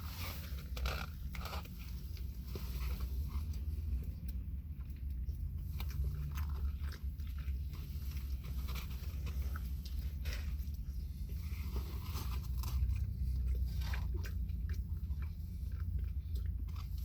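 An Arby's brisket sandwich is bitten and chewed up close, a long series of soft crunchy, moist bites and chewing sounds at an irregular pace, quiet and alone.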